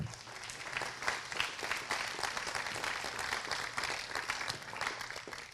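Church congregation clapping for the Lord, a steady dense patter of many hands filling the space at moderate level, with no voices rising above it.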